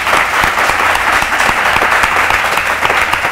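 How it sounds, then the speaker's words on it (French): An audience at a youth singing competition quarter-final applauds, loud dense clapping that stays steady and close throughout the short stretch, with no voices standing out. "la preuve, le renouvellement de ces applaudissements"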